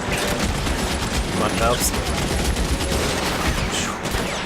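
Gunfire in a shootout in the video game LA Noire, rapid dense volleys of shots crackling continuously with a voice speaking briefly over the din.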